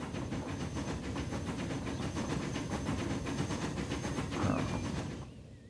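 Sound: train wheels slipping on rails in video game Transport Fever

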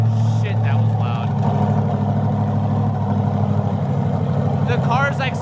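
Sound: loud car engine first startup

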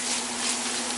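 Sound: butter melting in frying pan

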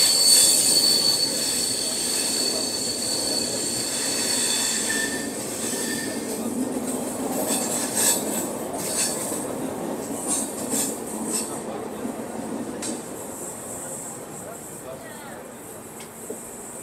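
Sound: Duronto Express train running through Godhra Junction

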